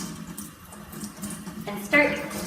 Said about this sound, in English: Next, turn on your water